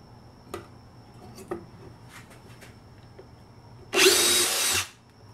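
Power drill boring a straight hole through pallet wood: a few quiet ticks and taps, then one short, loud drill burst of about a second near the end.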